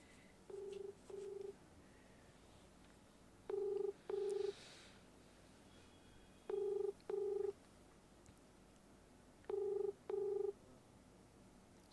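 A telephone on speakerphone gives two short tones, then a loud double-pulse ringback tone that repeats three times at steady intervals over faint room hiss, with no one speaking.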